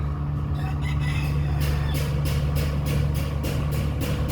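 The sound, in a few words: rooster crowing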